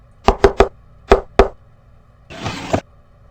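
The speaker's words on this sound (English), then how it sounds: "The seasoned agent casually raps out his famous secret knock." A secret knock rapped on a door: three quick knuckle raps, a short pause, then two more, followed by a brief rustling whoosh.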